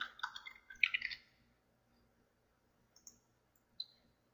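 A quick run of computer mouse clicks during photo editing software work, close and crisp, followed by a pause and then a few faint, isolated clicks.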